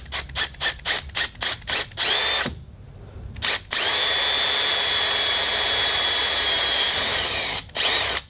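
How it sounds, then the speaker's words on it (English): Power drill with a 9/64 bit boring through aluminium sheet, a series of short whirring bursts followed by a long, steady high drill whine, close and loud with no talk. "we're going to let you guys drill your hole right through this time"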